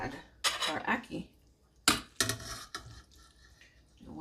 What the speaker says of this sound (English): we're gonna add our ackee